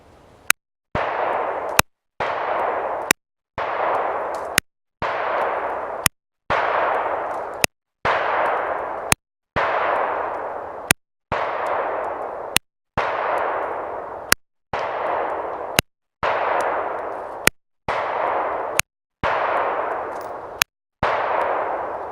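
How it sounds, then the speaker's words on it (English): EAA SAR B6P pistol fired at a steel target outdoors, about fifteen evenly spaced loud shots, each a sharp crack followed by a ringing decay, with no talk. "I'm going to be shooting at the top right circle."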